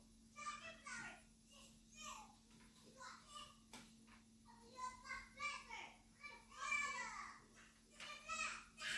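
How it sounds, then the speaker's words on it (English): Children play outside, their high chattering voices and calls coming and going in bursts, slightly distant, over a steady low electrical hum. "Excuse the kids playing outside."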